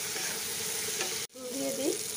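Green chilies fry in a pan with a close, continuous oil sizzle and scraping stirring strokes, interrupted by one brief break.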